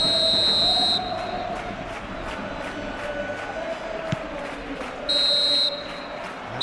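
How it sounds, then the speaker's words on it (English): A referee's whistle blowing for half-time in the PES 2021 football video game: two sharp, shrill blasts, one at the start and one near the end, over a constant roar of stadium crowd noise. "Whistle goes for half-time."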